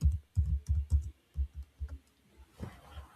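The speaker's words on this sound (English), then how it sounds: "So let's type practical two." Keys clack on a computer keyboard as a short command is typed in a Kali terminal, a quick uneven run of about a dozen close, fairly loud taps, with a brief pause and a softer rustle near the end.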